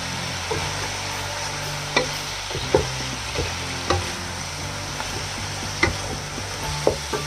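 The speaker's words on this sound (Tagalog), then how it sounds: "Haluin natin guys." Chicken curry being stirred in a pan with a utensil, its sharp scrapes and taps landing about once a second over a steady background sizzle, with no one talking.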